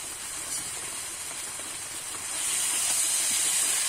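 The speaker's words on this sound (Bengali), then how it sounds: "এবারে দিয়ে দেবো ধুয়ে কেটে রাখা খাসির চর্বিটা।" Washed, chopped goat fat sizzles in a pan of well-browned mutton and potato curry, a steady hissing fry that swells louder partway through, with no talking.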